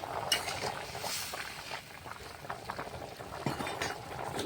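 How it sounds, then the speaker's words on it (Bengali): A thin fish curry gravy with potatoes bubbles at a rolling boil in a cooking pot, giving a continuous soft seething and popping close to the microphone. "ঝোলটা ফুটে উঠেছে"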